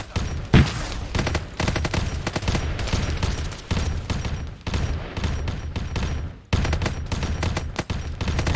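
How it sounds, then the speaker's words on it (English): Space Marines open fire in a Warhammer game, a sustained fusillade of rapid gunshots and booming impacts with brief pauses, loud and dense throughout. "And I have Space Marines firing up."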